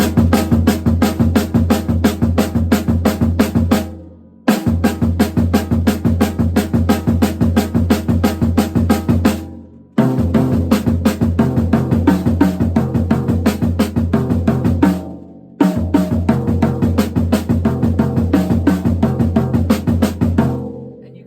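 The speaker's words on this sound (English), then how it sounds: "we're just going to put one bass drum note in between each of the notes here." Drum kit exercise playing singles with one bass drum note between each stick stroke, a steady dense rhythmic pattern in four loud phrases separated by brief pauses, with no voice.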